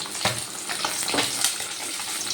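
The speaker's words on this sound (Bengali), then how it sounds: "বাকি তিনটে মাছও আমি তেলে দিয়ে দিয়েছি এবার এই মাছগুলো ভেজে তুলে নেব" Pabda fish frying in hot oil in a pan, a steady, dense sizzle with crackling bursts throughout, close and fairly loud, with no talking.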